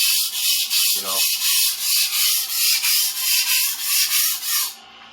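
Vintage 14-inch Ontario chef knife being sharpened on a stone in a kitchen, a close, regular back-and-forth rasping in about a dozen even strokes that stops abruptly near the end, with no talking.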